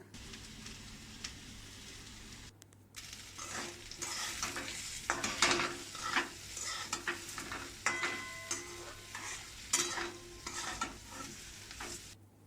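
Pumpkin curry with chili, turmeric and salt is stirred and fried in a wok, giving a steady sizzle with repeated scraping strokes of the spoon, close and continuous.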